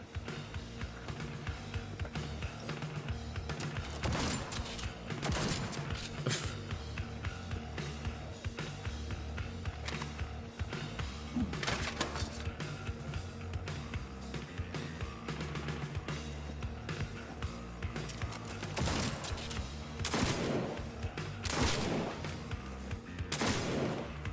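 Gunfire in the video game Cyberpunk 2077 rattles through a long firefight: repeated sharp shots and bursts, some clustered, some spaced apart, over a steady layer of loud combat noise, with no talking.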